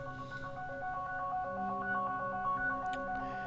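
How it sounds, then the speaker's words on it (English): A mobile phone rings indoors during a live talk, a steady melodic electronic ringtone with layered tones playing continuously at moderate loudness, with no speech over it. "Sorry, I forgot to silence my phone."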